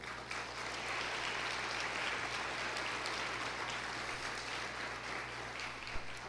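A church congregation applauds in a steady, even wash of clapping that holds without a break, heard at moderate distance with no voices over it.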